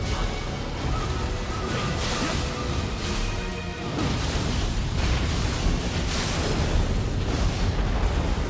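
Explosions from pools detonated in the video game Nioh 2, a loud, sustained roaring blast with a burst near the four-second mark that swells into continuous rumbling to the end.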